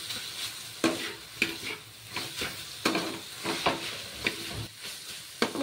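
Potatoes and spices fry in a pan while a utensil stirs them, giving a soft background sizzle punctuated by irregular scraping strokes, several of them louder and crisp, close by.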